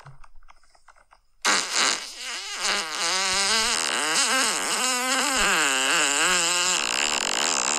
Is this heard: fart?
yes